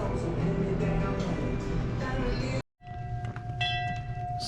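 A train rumbles steadily nearby with a low mechanical drone, briefly cutting out before resuming with a sustained tonal whine.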